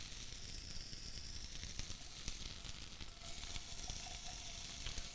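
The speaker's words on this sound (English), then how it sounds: "The better sear you get, the better flavor you're going to have." Shrimp and scallops sear in a hot pan, giving a steady, close, dense sizzle with scattered crackles and pops that carry on throughout, no talking.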